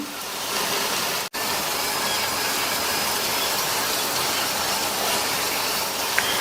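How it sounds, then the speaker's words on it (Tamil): Slices of elephant foot yam fry on a tava, giving a steady, close, even sizzling hiss that runs throughout with one brief dropout. "அந்த சைடும் ஃப்ரை ஆகட்டும்."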